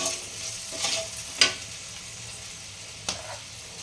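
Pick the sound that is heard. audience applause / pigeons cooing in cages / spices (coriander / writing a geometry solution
spices (coriander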